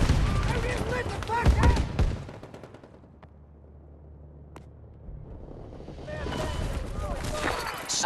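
Rapid automatic gunfire from Battlefield 2042's zombie rush mode rattles loudly in bursts at the start and end, with a quieter stretch between.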